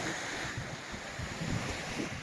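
Sea waves wash onto Anapa beach opposite the dolphinarium while a cold, strong wind buffets the microphone, making a steady, close roar with low surges from the surf and no voices.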